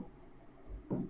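A pen moves across paper in short, faint scratching strokes, quiet and close, with a soft tap near the end.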